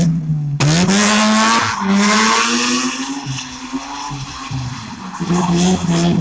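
A Mazda RX-8 drifts with traction control off, tires squealing loudly and continuously over a high-revving engine, the screech wavering in pitch as the car slides, close and alone without talk.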